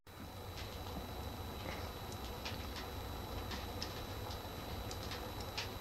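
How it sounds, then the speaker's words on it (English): Train passing on nearby tracks outside an old shack, a continuous low rumble with faint rattling and clicking, steady and fairly distant. "The train's coming through and I'm trying to keep warm in an old shack by the tracks."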